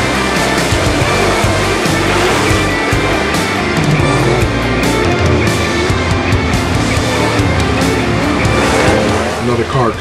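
Dirt track race cars roar around Valley Speedway at night, engines loud and continuous with tire squeal and skidding throughout, a dense pack of cars close by for the full stretch, with voices faintly mixed in.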